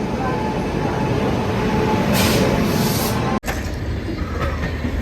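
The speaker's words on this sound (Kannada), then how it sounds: "ಫೈನಲಿ ನನ್ನ ಟ್ರೈನ್ ಬಂತು." A train bound for Delhi running close by: a loud, continuous rumble of wheels and carriages with rail noise, briefly cut by a sharp dropout partway through.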